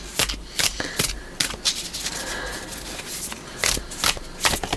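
Tarot cards from the Tarot of the Holy Spectrum deck being riffle shuffled, heard as several quick, crisp fluttering bursts of cards close by, separated by short pauses and softer handling.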